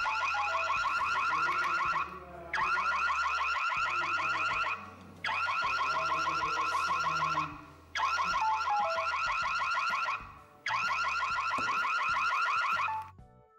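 A loud electronic Wi-Fi/GSM home alarm siren (AZ036) blares in five long bursts separated by brief gaps, with a rapid warbling tone, steady and piercing.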